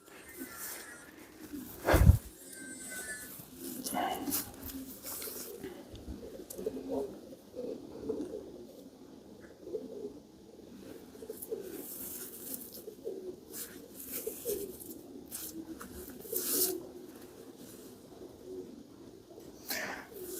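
Soft, low pigeon coos murmur intermittently in the background over a long stretch, mixed with rustling, a sharp knock and occasional faint voices.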